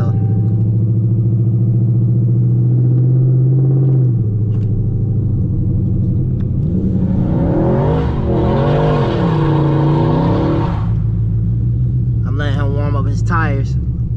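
Two tuned Dodge Chargers running E85, a Scat and an R/T, rev and race with a loud, sustained engine roar that climbs and wavers in pitch, over and under continuous talking, with rising revs near the end.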